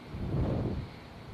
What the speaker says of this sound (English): would say it's significantly windy here